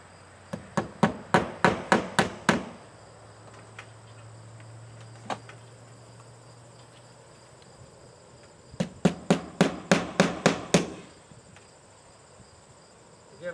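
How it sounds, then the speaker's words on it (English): Hammering nails into vinyl siding on a barn workshop addition: two quick runs of about eight sharp hammer taps each, separated by a single strike and a quiet stretch, with faint insect chirping in the background. "Again, I'm not nailing it tight,"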